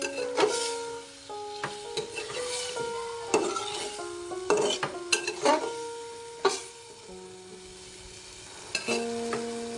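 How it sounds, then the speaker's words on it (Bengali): Brinjal and tomato with spices being stirred and fried in a pan, a soft sizzle under repeated scrapes and clinks of a spatula against the metal, with sharp knocks at intervals. "বেগুন আর টমেটো দিয়ে আমি ভালোভাবে আরেকবার কষিয়ে নিব।"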